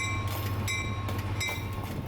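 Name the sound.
Seminole Gulf Christmas train with F7A locomotive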